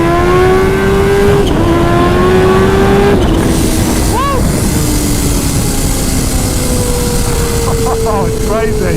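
A Kawasaki Ninja H2 motorcycle accelerating at full power, its loud close engine note climbing in pitch and dropping at each gear change, with heavy wind roar throughout.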